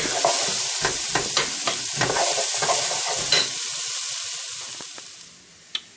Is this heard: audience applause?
no